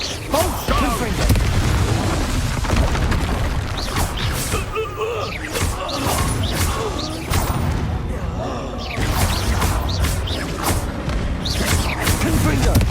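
Spell blasts and impacts in the video game Hogwarts Legacy, a dense run of booms, thuds and whooshes in quick succession with a voice shouting spell names over the clash.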